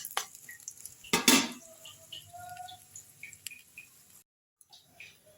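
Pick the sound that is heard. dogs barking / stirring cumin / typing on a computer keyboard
stirring cumin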